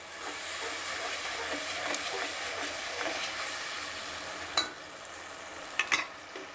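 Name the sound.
frying ginger, garlic and green chili paste with tomatoes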